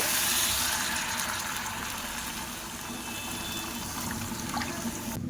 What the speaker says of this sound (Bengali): এবার দু বাটি জল দিয়ে দেব